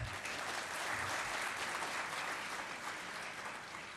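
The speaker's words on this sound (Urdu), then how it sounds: "لیڈیز اینڈ جینٹلمین، آپ کی بھرپور تالیاں ونس اگین" Audience applause at a Prime Minister Laptop Scheme ceremony, many hands clapping in a sustained, even wash that fades slightly toward the end, fairly soft and distant, with no speech over it.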